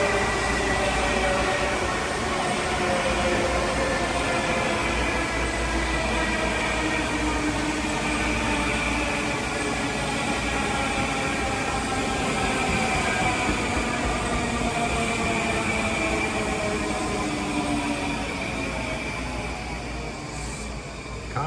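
A Long Island Rail Road train of Kawasaki M9 cars, running Grand Central to Huntington, rolls past continuously at close range, a loud steady rumble of wheels and motors with a rising and falling whine held throughout.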